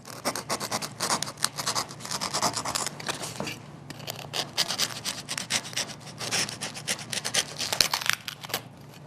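A hand saw cutting through wood while a duck head is carved, with steady rough back-and-forth rasping strokes, close and continuous with only a brief pause midway.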